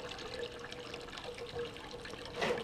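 Homebrewed leftovers ale pours from a spigot into a vessel, a soft continuous trickle and splash of liquid with a brighter gush near the end, close and fairly quiet with no talking.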